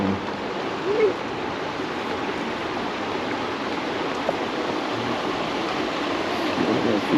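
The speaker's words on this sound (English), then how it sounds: "we have the river right there crossing underneath the building" A river in Pont-Aven, Brittany, flowing beneath a building, gives a steady, loud broadband rush of water that fills the whole stretch without pause.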